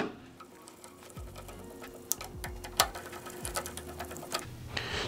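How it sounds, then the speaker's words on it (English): Small screws are torqued down on a Vortex Defender CCW micro red dot mount, with close, quiet clicks and light metallic ticks scattered irregularly over a soft background. "Now we can set our screws in here and torque these down."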